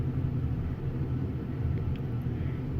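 A Westinghouse elevator car in East Liberty, Pittsburgh, running during a ride, steady low rumbling hum with faint mechanical whirs and a few light clicks, continuous and close without talk.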